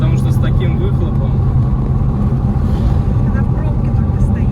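Loud, steady engine and exhaust rumble from a custom car built over four years in a garage, droning low and continuous throughout, with talk over it.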